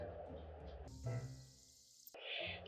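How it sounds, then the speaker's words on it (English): A paintbrush loaded with acrylic gouache is swished in a water cup, giving brief close splashing and sloshing bursts separated by quieter moments. "when I dip my brush in water, it still has a lot of color in it"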